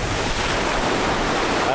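Steady ocean surf at Dahican beach in Mati, Mindanao, Philippines, a continuous loud wash of breaking waves with wind noise across the microphone and no distinct pauses.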